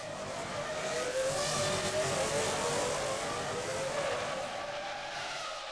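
A 2003-season Formula One race car screams past at high revs, a loud continuous engine whine that swells and fades slightly as it passes, with no talk.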